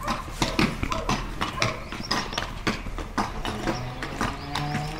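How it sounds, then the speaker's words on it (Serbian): A horse clip-clops along a village road, its hooves striking in a steady irregular beat, loud and close, with faint mechanical rattling mixed in and no speech. "Vidi lijepo konja?"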